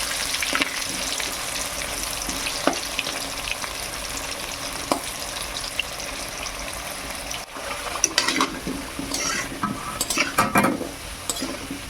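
Potatoes frying in oil on a clay stove give a steady, close sizzle, punctuated by occasional scraping and stirring clinks of a utensil against the pan, without talk.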